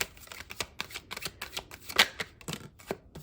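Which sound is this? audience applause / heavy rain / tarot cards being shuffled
tarot cards being shuffled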